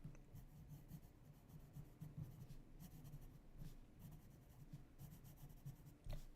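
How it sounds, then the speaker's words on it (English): A pen writing on paper, soft continuous scratching and rubbing strokes with brief pauses, quiet and close, with no talking. "And I'm gonna write it on my paper."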